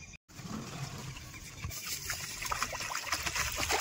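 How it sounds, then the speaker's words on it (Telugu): Basmati rice being washed in water for Telangana-style bagara rice, with steady trickling and sloshing of water close by that grows busier toward the end, no talking. "శుభ్రంగా బాస్మతి బియ్యం ఒక 2 సార్లు కడుగుదాం."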